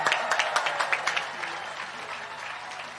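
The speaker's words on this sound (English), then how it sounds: "Round of applause" Rally audience at a Restore Nature Now event applauding Dr. Amir Khan, a burst of crisp clapping with a few sharp peaks early on, easing into steadier, softer applause.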